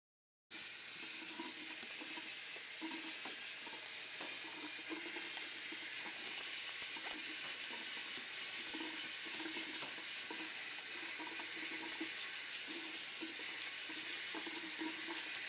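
Steady broadband rush of water pouring from a garden hose, continuous and fairly close for about fifteen seconds, with no talking over it.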